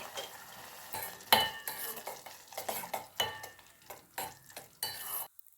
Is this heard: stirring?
yes